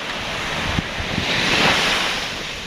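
Sea waves surging and washing ashore at a remote island, a steady broad roar with wind buffeting the microphone and a swell that builds in the middle.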